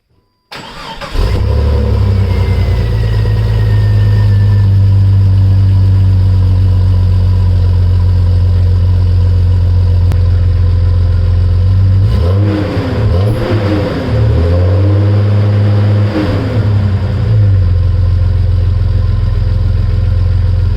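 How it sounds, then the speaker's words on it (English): Jeep Cherokee XJ exhaust fitted with a Walker Quiet-Flow stainless muffler and new catalytic converter, starting up and idling steadily with a deep, even drone, then a couple of brief revs rising and falling near the end. "So that is the exhaust."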